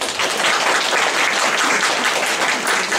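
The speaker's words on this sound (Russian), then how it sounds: "Аплодисменты." Dense, loud applause from parents at a school parents' meeting in Mytishchi, steady continuous clapping filling the room throughout.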